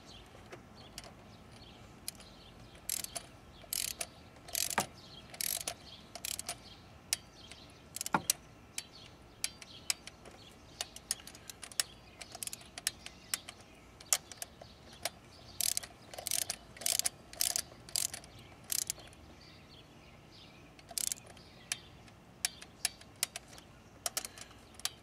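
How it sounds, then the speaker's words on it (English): A torque wrench tightens valve cover bolts on a Saab 9-3 2.0T, giving quiet bursts of ratcheting clicks in short runs separated by pauses, with a few sharper clacks, close and without talk. "And now I'll get my torque wrench"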